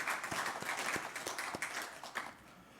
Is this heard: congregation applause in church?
yes